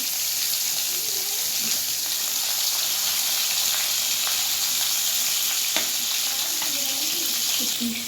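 Bagara rice frying in a lidded pan over a medium flame, giving a steady, even sizzle with faint stirring clinks and no voices.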